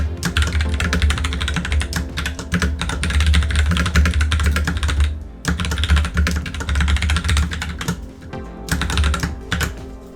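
Clicky mechanical keyboard keys with white LED backlighting being typed on steadily and fairly close, a dense run of rapid clacks with two brief pauses, no voices.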